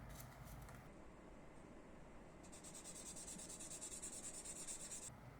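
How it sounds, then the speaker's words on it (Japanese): Sandpaper rubbed steadily over the plastic body of a Tamiya 1/24 Lancia Stratos Turbo Gr.5 scale model car, smoothing the surface after panel-line scribing; a close, continuous dry scratching with a quicker rhythmic stroke in the second half. "筋彫りで荒れた表面を整えます。"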